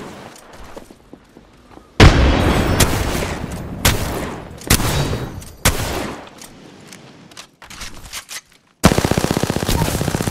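SMG gunfire in the video game Apex Legends: loud, rapid bursts of automatic fire in several separate volleys, with short gaps of quieter game noise between them.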